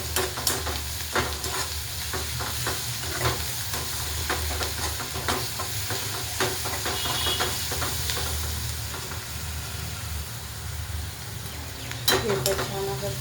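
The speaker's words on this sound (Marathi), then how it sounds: "ठेचा छान असा तळून निघलेला आहे." Green chili and garlic thecha sizzles steadily in a hot pan, a constant soft frying hiss broken by light stirring scrapes and clicks.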